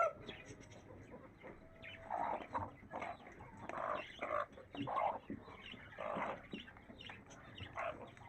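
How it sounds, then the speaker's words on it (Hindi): A broody hen guarding her eggs gives repeated low, throaty clucks in short bursts, fairly close and steady, with no talking over them. "अक्सर कुड़क मुर्गियाँ इस तरह की आवाज़ निकालती हैं, ये वाली।"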